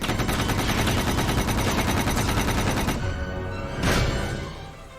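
An E-web heavy blaster firing in The Mandalorian, a loud, rapid stream of repeated shots that runs without pause for about three seconds, followed by a lower rumble and a single swelling blast near the end.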